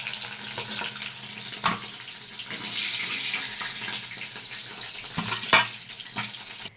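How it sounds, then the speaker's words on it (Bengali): Eggs frying lightly in hot oil in a pan give a steady soft sizzle with a few sharp clinks and scrapes of a utensil, fairly close and moderately loud, with no talking. "ডিমটাকে আমি হালকা করে ভেজে নিচ্ছি।"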